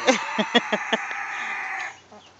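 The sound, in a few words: chicken clucking on a farm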